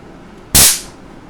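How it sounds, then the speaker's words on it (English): A single sharp, loud crack from a high-voltage stun gun discharging, a sudden snap that fades quickly into a quiet room. "World's most powerful, whatever you want to call it, stun gun"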